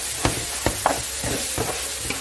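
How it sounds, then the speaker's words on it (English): Okra frying in a pot of Nigerian okra and ogbono soup, a steady sizzle with several sharp spoon knocks and scrapes against the pot at uneven intervals. "The next thing I'll be adding now is my okra, and I'll be adding it and allowing it to fry a little bit."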